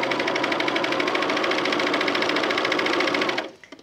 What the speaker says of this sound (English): So now we're going to keep sewing.